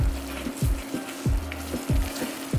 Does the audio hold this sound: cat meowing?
no